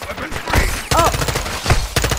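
Bursts of automatic gunfire in a Call of Duty Modern Warfare II campaign firefight, sharp close cracks in quick clusters with short gaps between volleys.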